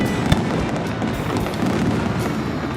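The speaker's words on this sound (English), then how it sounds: "a firework display" Fireworks burst over a harbour as the evening's display, a dense, continuous crackle and rumble with one sharper bang near the start, loud and steady throughout with no voices.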